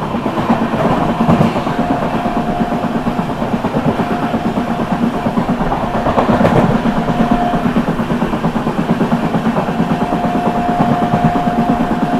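Onboard the Prayagraj–New Delhi Humsafar Express as it overtakes the Prayagraj Express, a goods train standing alongside. A loud, continuous rolling rumble carries a faint rhythmic clickety-clack of wheels over rail joints, with no voices.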